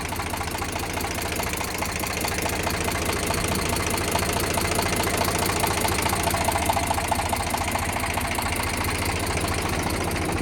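An Eicher tractor engine idling with its PTO engaged, a steady close knocking diesel chug with a fast, even rhythm and constant mechanical vibration, heard alone with no voices.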